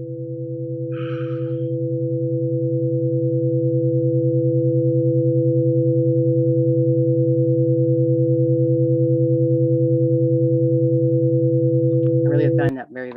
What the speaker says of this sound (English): This is solar radiation waves converted to sound waves. So this is the sound of the sun.